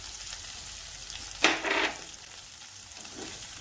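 A small onion is stirred in a hot oiled pan for bottle gourd curry: one short, loud sizzling burst rises above a low steady frying hiss, then fades.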